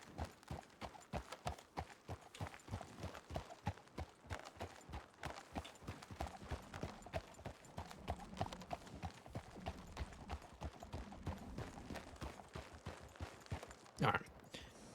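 Horse hooves clip-clopping in a steady, brisk rhythm in the RedM video game, a group of riders moving along together, with people talking over the hoofbeats and a sharp louder sound near the end.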